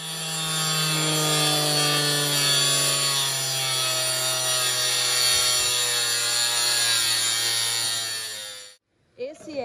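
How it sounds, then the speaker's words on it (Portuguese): A saw cuts a wooden countertop piece for a motorhome stove counter, giving a loud, steady, close whine that holds for about nine seconds and then stops abruptly, followed by a brief clatter. "Daqui agora a gente vai cortar no tamanho certinho que a gente precisa, tratar, lixar."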